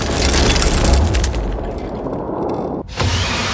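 Loud booming crack of a pistol shot in a film murder scene, a burst that decays into a dull rumble before a second abrupt impact near the end, with no speech.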